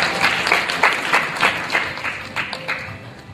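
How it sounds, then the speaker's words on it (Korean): Conference audience claps in a fairly sparse, rhythmic pattern, individual claps distinct and moderately close, sustained briefly without speech. "여러분들 큰 박수 부탁드리겠습니다."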